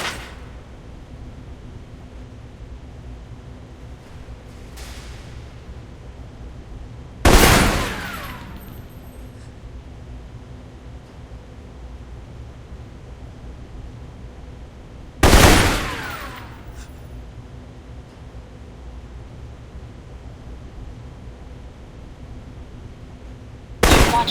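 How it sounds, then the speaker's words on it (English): Assault rifle fire in the Alpha Protocol video game: two loud, sharp bursts ring out several seconds apart over a low, steady background hum, with a fainter shot early on and another burst right at the end. "For long-range encounters, the assault rifle's the key"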